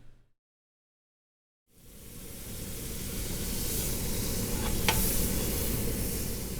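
Butter and beef searing in a very hot frying pan give a loud, steady sizzle that starts suddenly after a short silence and holds without a break, with a brief sharp crackle partway through.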